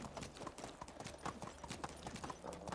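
Horse hooves clip-clop steadily in the Medieval Dynasty video game, a quick, even rhythm of close hoofbeats running throughout with a faint snort or whinny in the mix.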